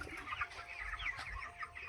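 Chickens on a poultry farm suffering high mortality cluck softly and fitfully, a steady near murmur of many birds with low background rumble and no talking.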